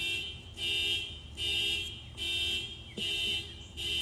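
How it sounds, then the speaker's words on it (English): A nearby car alarm blaring outdoors, its loud electronic tone pulsing in regular on-off bursts about every second with no voices. "So now that car alarm is off here"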